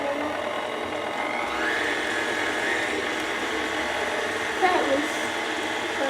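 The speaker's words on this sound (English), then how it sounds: "we're going to lift the mixer up and we're going to put this on about 4 on the mixer" A stand mixer runs steadily on speed 4 as it mixes a salad dressing, producing a continuous close whirring motor drone with a brief change in pitch partway through.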